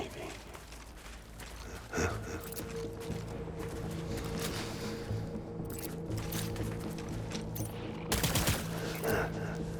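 Gunfire in the video game Death Stranding, with sustained bursts and scattered shots over continuous combat noise, plus a brief voice near the start.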